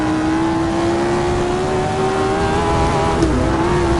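Car engine from the racing game Assetto Corsa, driven with a steering wheel, holds a steady loud drone with slowly shifting pitch, briefly dipping near the end before settling again, with no voices.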